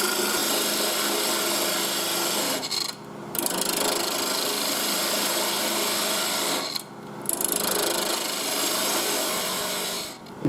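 A parting tool cuts into wood spinning on a lathe, a steady, bright scraping hiss that breaks off twice for brief pauses before resuming, close and fairly loud.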